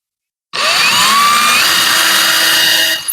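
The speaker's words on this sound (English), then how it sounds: "We're going to drill them all this size" A power drill runs in one continuous burst of about two and a half seconds, starting abruptly and whining steadily with a slight pitch rise while boring a hole during a motorhome solar install.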